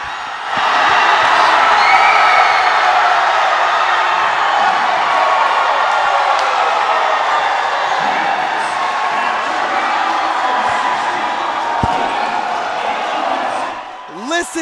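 A packed gym crowd roars and cheers loudly and continuously after Menlo College wins match point against Westmont College in a 2019 GSAC conference volleyball match, the noise holding steady before easing near the end.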